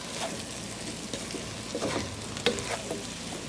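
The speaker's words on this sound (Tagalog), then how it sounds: "Ilagay na natin ang beans and then i-mix sa ating mga ingredients" A spoon stirs cooked beans into sizzling ingredients in a pot for fasolia, a Middle Eastern bean stew, producing a continuous scraping, bubbling hiss with a few sharper clinks, close and moderately loud.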